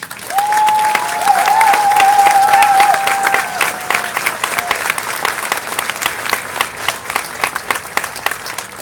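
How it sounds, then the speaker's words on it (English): Audience applause at a Marine Corps graduation ceremony: a loud, dense burst of clapping that swells for about four seconds, with a sustained whistle over it, then thins into scattered claps that taper off. "please join me in a big round of applause for their many, many sacrifices"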